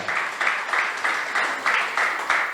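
A church congregation clapping in a steady rhythmic beat, about four claps per second, moderately loud and continuing evenly without a break.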